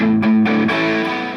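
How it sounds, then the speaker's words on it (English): Electric guitar fed through a distortion pedal standing in for a tube amp, a few thick sustained chords ringing loud and close, with no talking. "The distortion pedal fakes the fire-breathing tube amp."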